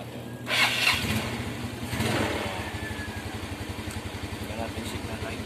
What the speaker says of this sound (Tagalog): Pahandarin natin yung motor.